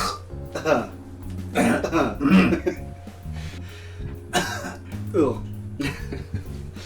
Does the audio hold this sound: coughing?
yes